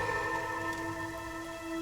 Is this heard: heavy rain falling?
yes